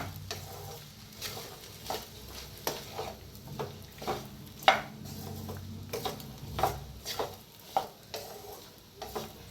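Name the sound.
mixing rice with lemon and sugar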